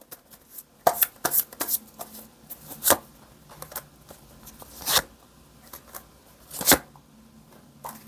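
Tarot cards shuffled and drawn at close range, sharp papery riffles and snaps in irregular bursts separated by short quiet gaps.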